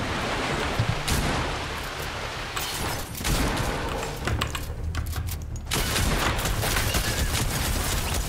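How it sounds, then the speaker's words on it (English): Video game gunfire aimed at the player: a dense, noisy stretch of shots and impacts that swells in bursts and continues throughout, with no clear pauses. "I'm getting shot at from somewhere"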